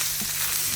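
Chorizo fries in a pan with a steady, close crackling sizzle that holds throughout the short stretch, with no voices.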